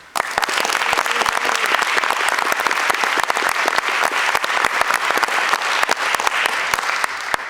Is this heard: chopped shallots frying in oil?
no